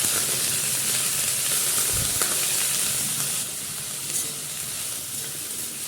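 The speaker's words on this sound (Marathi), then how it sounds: "इथे मी कढईत कोबीज टाकलाय भाजायला." Cabbage roasting dry in a kadai for a yellow Maharashtrian cabbage dish, giving a steady close sizzle and hiss with a few soft stirring scrapes, slightly quieter toward the end.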